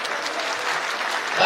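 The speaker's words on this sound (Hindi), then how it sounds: "अरे तालियों की गड़गड़ाहट मेरी महिलाओं की।" Women in a crowd at a political rally applaud in a dense, steady burst of clapping that swells slightly toward the end.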